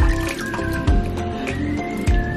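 Pomeranian puppy lapping water from a bowl, quick repeated wet drips and slurps in a fast irregular rhythm, close and fairly loud, with faint talk in the background.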